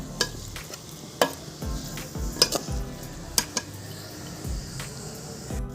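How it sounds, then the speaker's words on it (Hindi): Onions fry in hot oil in a pan for fish curry, with a steady sizzle punctuated by sharp metallic knocks and scrapes of a spoon against the pan, close by and without talk. "तेल यहाँ पे जो है गरम हो गया है। अब हम इसमें डालेंगे प्याज।"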